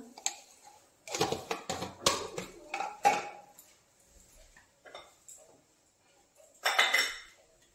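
A metal pressure cooker lid is handled and closed while cooking a vegetarian banana-flower curry, heard as a series of sharp metallic clinks and clatters in short bursts, with a final cluster of clanks near the end.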